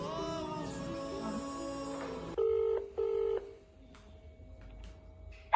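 After a stretch of soft melodic music, two clear telephone keypad tones beep in quick succession as a phone is dialed, followed by a quiet steady tone.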